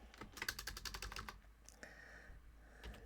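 Quick, close keystrokes on a computer keyboard come in a rapid burst, pause briefly, then resume with a few more taps.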